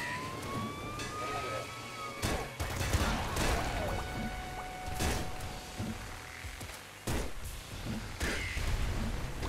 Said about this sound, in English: I wonder if I can survive explosions.